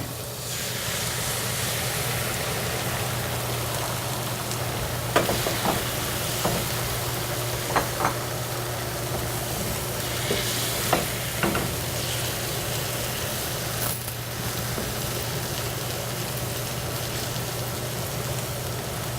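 Eggs for an omelet frying and being stirred in a hot pan, a steady continuous sizzle with a low hum beneath and a few soft clicks and scrapes of the utensil scattered throughout.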